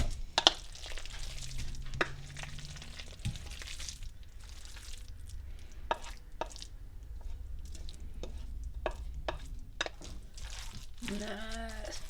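Casserole ingredients for a tomato caprese tot casserole tipped into a greased dish, soft thuds and wet squishing bursts scattered across the clip, close and quiet, ending with a brief voice.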